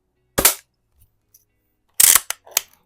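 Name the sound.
air gun being fired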